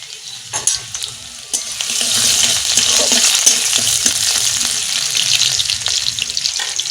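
Chopped garlic hits hot white oil in a wok and bursts into a loud, steady sizzle, with a few sharp spatters and clatters at the start before the frying settles into an even hiss.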